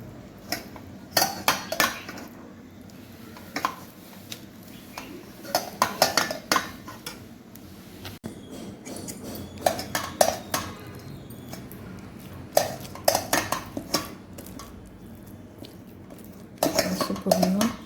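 A spoon is turned against a metal sieve to press hot puran filling through it, making bursts of scraping, clinking and tapping in irregular clusters with short pauses, close and moderately loud, while a voice talks at times.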